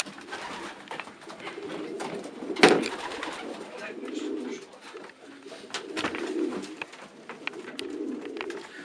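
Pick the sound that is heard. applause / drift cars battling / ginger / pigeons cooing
pigeons cooing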